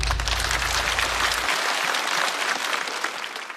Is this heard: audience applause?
yes